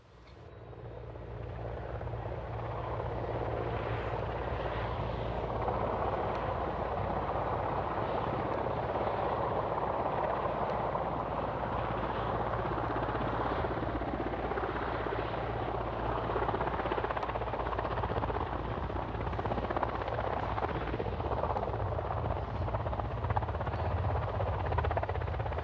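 A helicopter drones loudly and continuously at a Soyuz landing site in northern Kazakhstan, deep rotor thrum and engine roar holding steady for the whole stretch, no voices.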